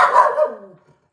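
A small dog barks once, loud and close, inside a house at a bulldog passing outside, and the bark trails off into quiet.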